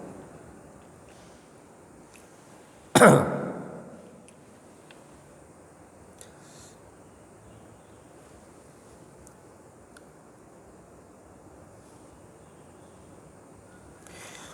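A single sharp cough bursts out near the microphone, then a long stretch of quiet room hiss follows.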